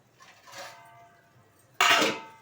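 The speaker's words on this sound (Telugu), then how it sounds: "ఇప్పుడు మనం దీనికి మూత పెడతాను" A lid clanks onto a metal pot of mixed batter. First comes a soft scrape, then one loud, close metallic clang that rings briefly before fading. No one speaks.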